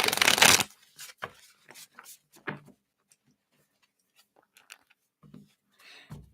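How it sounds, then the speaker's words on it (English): A burst of cards riffling together, then scattered soft clicks and snaps as the deck is handled and squared up, close by. "Let's shuffle these up"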